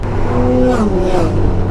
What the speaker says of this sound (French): Bienvenue à bord de la Honda Goldwing 1800 cm3 2018